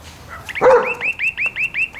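A dog barks in a quick, loud run of high, sharp yaps, about half a dozen in close succession, near and alone with no talk.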